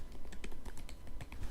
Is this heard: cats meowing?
no